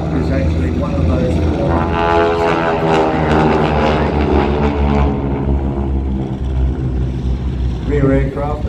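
A Harvard propeller trainer aircraft from New Zealand flies past at a warbird airshow in Australia, its loud radial engine and propeller drone swelling and shifting in pitch as it passes, with a voice talking over it.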